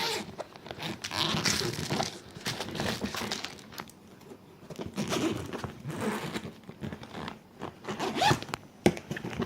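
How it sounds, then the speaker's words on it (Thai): An expansion zipper on the side of a red Giordano suitcase is pulled open in a steady run of close, scratchy rasps with short pauses and a few crinkling bumps. "ด้านข้างนี่สามารถที่จะขยายได้นะคะเนี่ยค่ะ ซิปขยาย"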